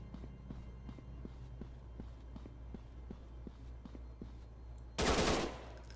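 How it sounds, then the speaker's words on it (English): A single loud, broad blast of AK-47 fire in a Unity-built shooter game lands near the end, after several seconds of soft, evenly spaced ticking steps over a low steady hum. "AK-47."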